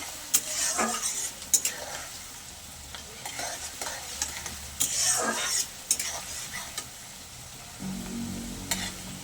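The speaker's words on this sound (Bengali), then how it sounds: "গ্যাসটা আস্তে দিয়ে পেঁয়াজটাকে একটু ভাজা ভাজা করে নেব" Chopped onions fry over low gas in a pan, a steady sizzle broken by scraping stirs and occasional clinks of a spatula against the pan.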